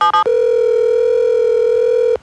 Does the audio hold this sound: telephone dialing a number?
yes